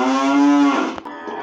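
A single drawn-out cow moo from a video game about milking a cow, loud and close, ending in a brief soft rustle.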